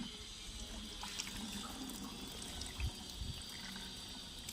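Water runs from a household tap into a sink in a steady, moderately quiet broadband rush, with a few faint splashes and clatters but no talk.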